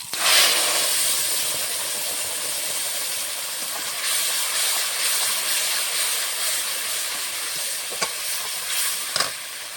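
Mustard and poppy seed paste dropped into hot oil with panch phoron and bay leaf for a tilapia curry, a loud, steady hissing sizzle that carries on throughout, with a couple of faint clinks near the end.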